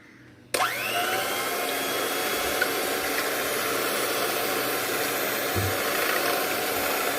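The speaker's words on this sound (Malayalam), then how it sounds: "ഇനി നമുക്ക് കുറച്ച് അടിച്ചിട്ട് 1/2 കപ്പ് പഞ്ചസാര കൂടിയിട്ട് നല്ലതുപോലെ ബീറ്റ് ചെയ്യാം" An electric mixer switches on abruptly and whirs loudly and steadily as it beats eggs with vanilla essence for a cake, with a brief clunk near the end.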